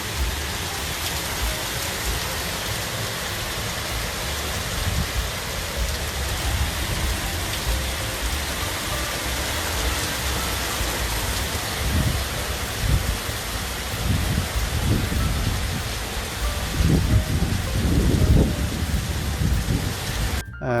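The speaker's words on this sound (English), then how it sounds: "What an amazing rain! Unbelievable! Such a storm." A heavy rainstorm pours down steadily throughout, with low rumbles of thunder swelling near the end over the constant hiss of the downpour. No one speaks.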